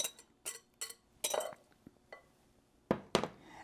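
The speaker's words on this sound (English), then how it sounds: "we're going to take our batter and get all of this goodness into the bowl, like so" Crab cake batter of tofu and crab is scraped from a container into a bowl, giving a series of short clinks and scrapes against the dish, some spaced apart and two louder ones near the end, with no talking.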